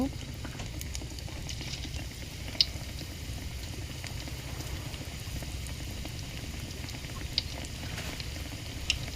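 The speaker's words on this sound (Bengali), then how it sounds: "এখন আমি সবগুলো বড়া এক এক করে দিয়ে দেব।" Bora fritters fry in hot oil in a wok with a continuous soft bubbling sizzle and occasional sharp pops, steady and close, with no voices.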